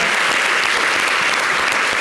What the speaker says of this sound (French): Bravo. On va l'applaudir encore.